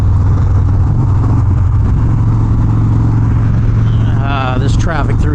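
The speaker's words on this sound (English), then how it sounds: "This traffic through here sucks." Slow road traffic is heard as a loud, constant engine drone from cars on a busy stretch, with a brief whiny rise near the end.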